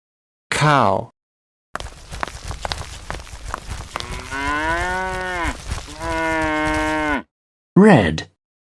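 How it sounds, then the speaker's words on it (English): Cartoon cow from an animal cartoon mooing loudly, a short call, then a long drawn-out lowing moo with wavering pitch, and a final brief moo, close and clear with no talking. "Cow."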